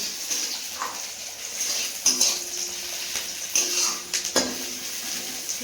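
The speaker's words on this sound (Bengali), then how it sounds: "এদিকে পেঁয়াজের আদাটা হালকাই ভেজে নিয়েছি, বেশি ভাজবো না কারণ এটা আবার পেস্ট করতে হবে" Onion and ginger fry lightly in oil in a pan, a soft steady sizzle broken by a few clinks of a utensil stirring against the metal; nobody speaks.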